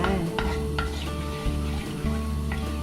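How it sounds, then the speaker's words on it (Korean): A spoon stirs a thick Jetty chocolate milk mixture in a pot over medium-low heat, giving repeated close scraping and soft bubbling strokes, with a steady low hum underneath and no talking. "계속해서 저어줘야 타지 않고 고루고루 잘"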